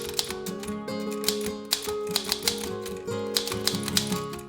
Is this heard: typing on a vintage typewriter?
yes